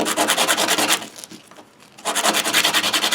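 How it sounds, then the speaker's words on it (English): Small replica prop parts such as rings, collets and sleeves being sanded smooth with 500 grit sandpaper: steady, rapid rhythmic rubbing strokes, close and fairly loud, pausing briefly in the middle before resuming. "grab a piece of 500 grit paper and go crazy and make this smooth like glass"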